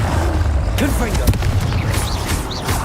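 A Confringo fire spell blasts in Hogwarts Legacy, a loud booming burst with rumbling low end and crackling debris, followed by quick whooshing effects and short vocal grunts mixed in.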